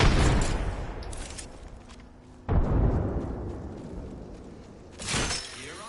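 Frag grenade explosions in the video game Apex Legends: two loud, broadband blasts with long rumbling decays, followed by a third quieter burst near the end, heard without talk.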